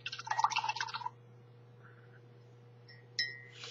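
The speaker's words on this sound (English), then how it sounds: "this stuff washes off your brush with water" A paintbrush is swished and rinsed in a container of water, giving a short burst of splashy, clinking agitation followed by quiet drips and a faint tap, close and soft against a low hum.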